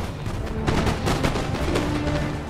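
Massed musket volleys in a real-time strategy battle between French and Prussian armies, dense crackling gunfire and booming shots rolling continuously at a loud, steady level.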